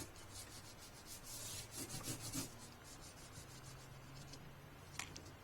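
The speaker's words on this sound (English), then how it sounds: "if you put texture underneath, you can just rub it, and the texture will show up" Crayon or pencil rubbing back and forth over paper laid on a textured plastic placemat, a soft scratchy rasp that comes in steady strokes and swells slightly in the middle, close and fairly quiet with no talking.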